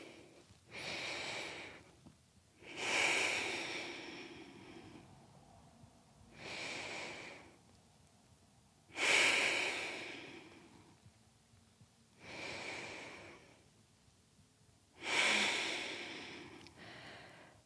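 Slow, deep breaths during a held yoga pose come close and clear, each inhale and exhale swelling and fading in a steady cycle of about three seconds.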